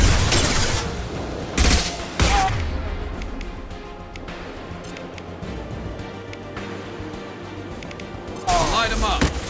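Mass Effect 2 combat: sustained gunfire and weapon bursts roll on loudly at close range, with sharper blasts near the start and end and shouted voices woven through the battle.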